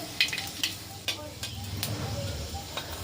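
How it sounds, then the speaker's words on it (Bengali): Five-spice seeds, a halved bay leaf and a dried red chilli sizzle in hot oil with a quiet, crackling hiss and a few light clicks, while a person talks over it. "এবার ওই তেলে দিয়ে দেব হাফ চামচ 5 ফোড়ন, একটা তেজপাতা 2 ভাগ করে"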